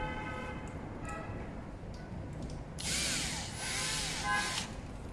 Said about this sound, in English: you also use the screw to fix this corner